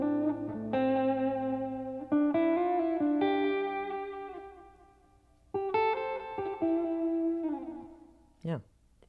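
A filtered, distorted electric guitar lead plays a sustained melodic bridge part with held notes and slides, clear and alone with a soft effected tone.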